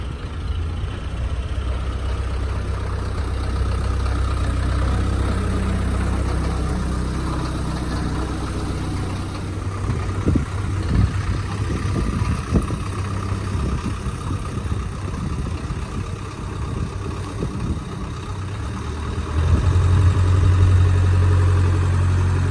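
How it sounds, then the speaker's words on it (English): A Land Rover Series 3 engine idles with a steady low rumble, running unbroken throughout and swelling slightly louder near the end, with no voices heard. "So let's get the Land Rover moved outside and take it for a drive"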